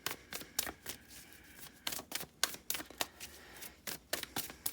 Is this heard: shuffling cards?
yes